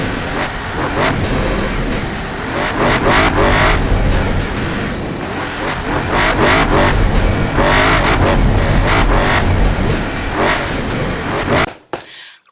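A dragster van's engine revs loud and close on the Top Gear test track, a sustained roar that surges and falls in waves, with repeated throttle blips, before cutting off abruptly near the end.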